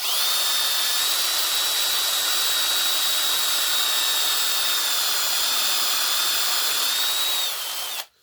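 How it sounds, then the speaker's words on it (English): A power drill with a 13mm bit bores steadily through material for a tool for horn nocks, a loud continuous high whine that runs unbroken for about eight seconds before cutting off abruptly. "And it drilled in nice and smoothly."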